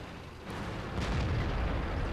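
A tank's ammo rack detonates in World of Tanks, a T-44 medium tank battle: a rising, sustained rumbling blast that swells and holds loud over a noisy game background.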